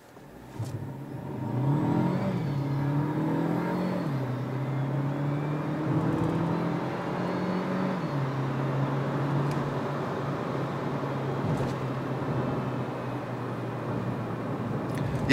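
A 2020 Renault Clio TCe 130 with EDC automatic gearbox accelerating hard from 0 to 100 km/h, with a rising engine drone and a few gear-shift dips, heard steadily from inside the car.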